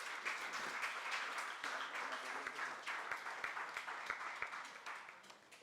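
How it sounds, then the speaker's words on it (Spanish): An audience at a round-table public discussion event applauding, a sustained wash of many hands clapping at fairly low level, with a few sharper individual claps and a gradual fade near the end. "Muy bien, un aplauso"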